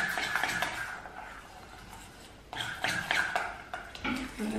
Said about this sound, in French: Et là, avec la cuillère, on va tout simplement venir finir de bien mélanger.